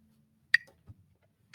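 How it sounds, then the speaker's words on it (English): A metronome set to 60 gives two sharp, close ticks exactly one second apart over near silence, with a soft thump between them. "my metronome's on 60"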